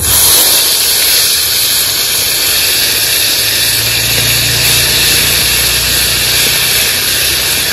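Radhuni seeds, bay leaf and a ginger-cumin paste sizzling in hot oil for a Bengali fish curry with eggplant and potato, a steady loud hiss and crackle filling the whole stretch.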